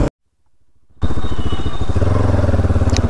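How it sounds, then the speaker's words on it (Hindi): A motorcycle engine starts after a brief silence, then its rapid, pulsing exhaust beat builds loud and close as the bike speeds up. "तो अभी थोड़ा भगाते हैं बाइक को क्योंकि वैसे ही लेट हो चुका है अभी"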